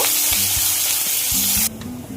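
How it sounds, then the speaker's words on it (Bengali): Finely chopped onion, one large one, goes into hot oil with whole-spice tempering for a fish-head moong dal, giving a loud, bright sizzle with stirring clatter that drops suddenly to a softer fry near the end. "এর মধ্যে দিয়ে দিলাম একটা বড় সাইজের পেঁয়াজ কুচি। পেঁয়াজটা লাল করে ভেজে নেব।"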